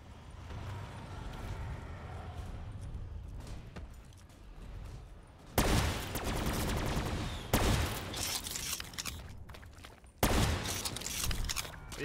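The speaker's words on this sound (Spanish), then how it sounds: "va a volver a salir los fireworks." Fireworks going off in a Call of Duty Black Ops 3 zombies match on the Gorod Krovi map come as rapid crackling bursts of bangs, with three sharp loud volleys rising over the quieter game ambience.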